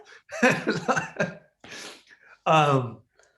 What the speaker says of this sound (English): So I cough every time I do these calls